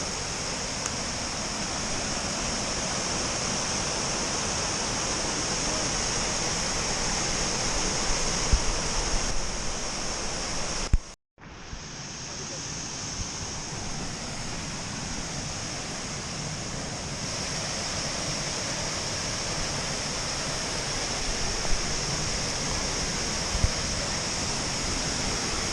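A waterfall in the Auvergne lakes and volcanoes region pours with a steady, dense roar of rushing water that stays constant throughout, broken only by one brief dropout.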